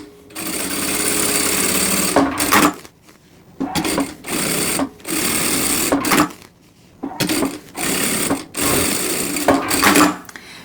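A sewing machine stitches a Christmas quilt project, running in loud, close bursts of fast steady whirring broken by short pauses, with no talk over it.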